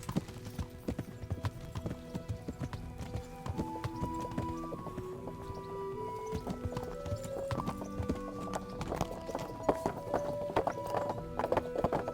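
Horse hooves clip-clop in a steady walking rhythm in the medieval role-playing game Kingdom Come: Deliverance, moderately close under a soft musical score, with a brief neigh.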